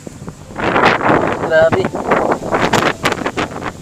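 Strong gusting wind buffets the microphone in loud, uneven rumbling bursts while people talk over it.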